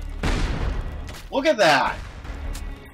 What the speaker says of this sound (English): See those explosions? Those are grenade launchers, man.